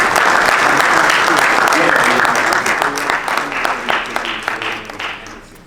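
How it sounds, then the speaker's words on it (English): Indoor audience at a Paterson Muslim Heritage Month celebration gives a loud round of applause for city council members, dense clapping that holds steady and then thins out toward the end. "Let's give them another round of applause."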